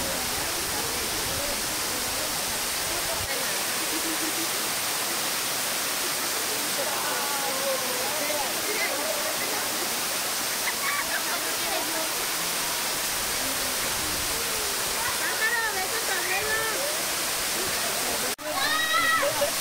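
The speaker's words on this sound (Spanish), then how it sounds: "A través de las piedras está saliendo todo el agua que viene de la cascada." Water from a waterfall pours through rocks at an ecotourism park in Zapotlanejo, Jalisco. It makes a loud, steady rushing roar with no gaps, and voices are faintly audible beneath it.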